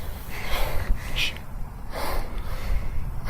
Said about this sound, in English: I want you to hear the breathing.